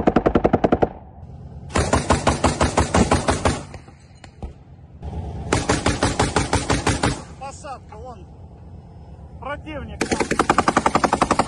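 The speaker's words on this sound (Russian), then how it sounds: "Это ответный огонь." Return gunfire near Lysychansk during combat: bursts of loud, rapid automatic fire in several long volleys separated by short pauses, with quieter scattered shots and distant bangs between them.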